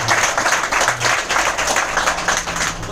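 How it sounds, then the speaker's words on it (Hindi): An audience applauds in a room, dense steady clapping from many hands that stays loud and continuous throughout. "इनके लिए जोरदार तालियां।"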